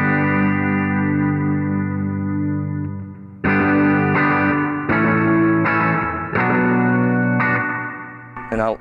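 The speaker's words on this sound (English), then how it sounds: "This was my main reverb until I got the Blue Sky" An electric guitar runs through a reverb pedal, sustained chords ringing out in a long wash, then a series of sharp strummed hits each trailing off into reverberant decay, fairly loud and alone.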